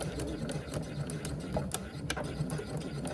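Sewing machine running steadily while reinforcing stitching across the pull on a small fabric keychain pouch, a continuous close mechanical whir with faint rhythmic ticks and no talk.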